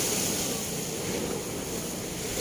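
Sea waves at a shore near the city of Naga keep up a constant broad wash of surf mixed with wind noise against the microphone, loud and steady without distinct breaks, with no voices heard.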